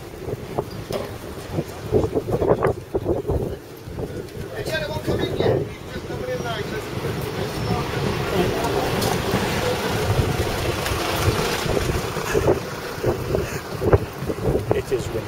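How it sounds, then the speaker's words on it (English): Steady wind buffeting a microphone outdoors, with a low rumbling roar throughout and occasional louder gusts. "It is windy."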